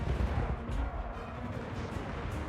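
Cannon fire in a Warhammer dwarf battle game set at Karak Kadrin, heard as a dense, continuous rumble of low booms and blasts rolling on without pause, loud and close, with no talking.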